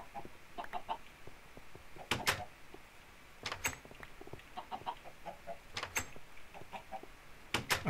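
Chickens clucking on a Minecraft farm, short scattered clucks and squawks at irregular intervals over a low background hiss, with a few sharper knocks mixed in, moderately faint.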